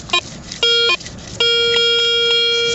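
Garrett ACE metal detector signalling a target with electronic beeps outdoors: two short tones, then a longer steady tone that holds for over a second, fairly close and clear.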